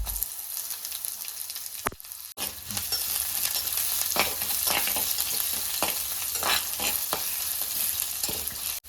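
Shallots fry in hot oil in a pan for a milk shark curry, a loud, dense sizzle and crackle running throughout, broken by a brief dip and periodic stirring scrapes close by.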